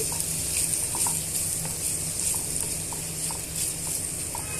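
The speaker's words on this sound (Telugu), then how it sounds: "బాగా వేయించేసుకోవాలి ఉల్లిపాయల్ని బాగా మగ్గించుకోవాలండి" Sliced onions and finely chopped green chillies fry in a pan for onion kachori filling, giving a steady close sizzle with occasional scrape and stir clicks and no voice over it.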